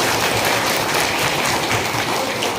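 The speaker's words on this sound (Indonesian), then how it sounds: "Tepuk tangan semuanya." Dense, steady applause from an audience at a madrasah parents' event, greeting children who have just performed. It fills the whole stretch at an even level with no voices standing out.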